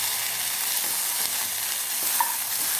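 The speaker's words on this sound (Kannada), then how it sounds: "ಎಲ್ಲವನ್ನೊಮ್ಮೆ ಮಿಕ್ಸ್ ಮಾಡಿ." Chinese bhel ingredients, including Schezwan chutney, being stirred and tossed together in a pan, giving a steady, close scraping and rustling hiss with a faint sizzle throughout.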